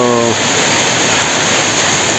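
Steady, loud hiss of heavy rain pouring down over a tilapia farm, constant and unbroken, with a brief tonal hum at the very start.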